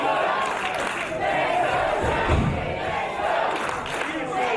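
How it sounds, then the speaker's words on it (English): A wrestling crowd in Snodland cheers an IPW UK six-man tag match, loud and sustained, with roaring shouts that swell briefly midway and then settle back into a continuous din. "you can hear this Snodland crowd firmly behind our three young champions"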